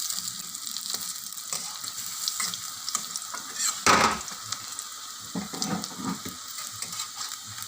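Egg pakora frying in hot oil, a continuous soft sizzle with scattered crackles and one brief louder burst near the middle, close by and without speech.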